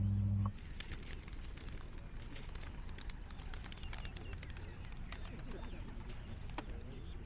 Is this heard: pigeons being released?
yes